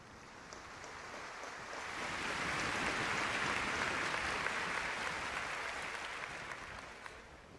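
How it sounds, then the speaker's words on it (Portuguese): Church congregation applauding the proclaimed word of God at a Catholic gathering, faint, distant wash of clapping that swells in the middle and slowly fades. "Pode aplaudir com mais força a palavra de Deus que foi proclamada."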